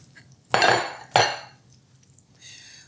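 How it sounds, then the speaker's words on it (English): Cauliflower tipped back into a pan with chicken in a tomato sauce: two close, loud clattering scrapes of metal on pan in quick succession, then a faint clink, with no talk. "we're gonna put our cauliflower back in here"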